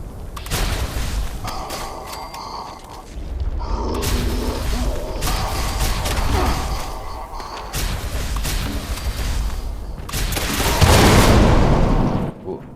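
In Fallout 76, a missile launcher fires and detonates amid a steady stream of booming impacts and mechanical clatter, fairly loud and continuous, ending in a louder blast with a rushing tail.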